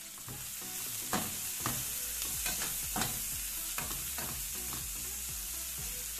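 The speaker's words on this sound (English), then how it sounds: "Saute that a bit. add scallion, add peppers, all of the colors." Scallions and colorful peppers sauté in a pan after garlic and onions, with a steady soft sizzle broken by repeated scraping stirs of a utensil at a fairly even rhythm, close and moderately quiet.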